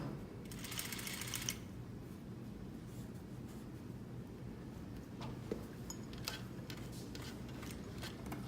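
A sewing machine stitches binding onto a flat collar, running quietly and continuously at a steady hum with light ticking clicks scattered throughout, faint and close.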